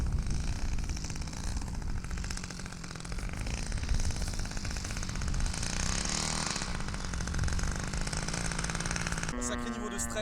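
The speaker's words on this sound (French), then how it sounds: "c'est un 33 cm3, hein, moteur Evo 33" An Evo 33cc petrol engine on a model airplane runs steadily at high revs, a loud continuous buzzing drone close to the microphone, with a brief burst of other sound at the end.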